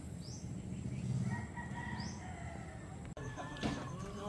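Two white kelso gamefowl crow and cluck in a pen, with repeated rising crows and lower clucks at moderate distance over steady background noise and no talk.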